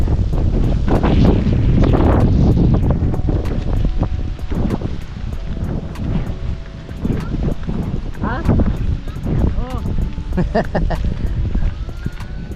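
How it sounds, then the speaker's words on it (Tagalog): Strong wind buffets the microphone in a steady low roar, with people talking over it throughout. "Malakas lang yung hangin"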